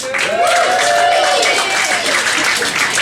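An audience at a comedy club breaks into loud, continuous clapping mixed with a few cheers and whoops, filling the room for several seconds.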